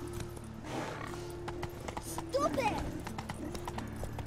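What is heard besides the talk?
horse Roach galloping and neighing, from video game The Witcher 3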